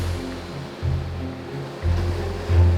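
Big ocean waves pound a mangrove shore with battered breakwaters, giving a steady surf roar with heavy low surges rolling in at intervals, loud and close with no voices.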